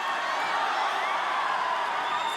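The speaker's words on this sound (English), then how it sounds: "this crowd going absolutely bananas here in Studio City, Macau, China" A packed arena crowd at a mixed martial arts fight in Studio City, Macau, China, cheers and whoops in a steady, dense roar that fills the whole stretch without a pause.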